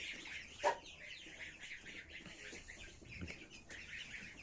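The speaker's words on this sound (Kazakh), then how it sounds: "Тауықтар мыналар." Faint, scattered clucking and chirpy calls from chickens in a quiet outdoor setting, with a soft thud partway through.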